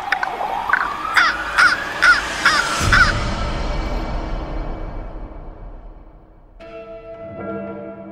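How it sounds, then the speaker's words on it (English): A raven gives a run of five or six loud, harsh caws in quick rhythm, followed by a long fading echo and later a faint ringing bell-like tone. "the raven flew away."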